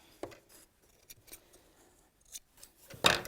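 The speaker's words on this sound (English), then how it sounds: "We'll snip that." A few sharp scissor snips cutting through ribbon during a sewing project, close and crisp, with a louder cluster of cuts at the end and quiet pauses between.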